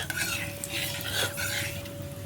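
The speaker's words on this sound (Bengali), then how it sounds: "দিয়ে দিলাম হাফ চামচ মতন কালো জিরে ফোড়ন একটু নেড়ে চেড়ে নেব" Half a spoon of nigella seeds crackles in hot oil and is stirred with a metal spoon, giving a soft sizzle under short scraping strokes, close and quiet.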